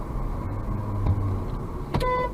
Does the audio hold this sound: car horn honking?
yes